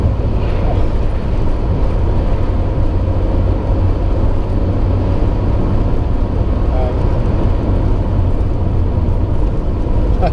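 Lancia Delta Integrale Evo 1 on the road, a steady engine drone and road rumble filling the cabin continuously with wind noise, heard from inside while driving.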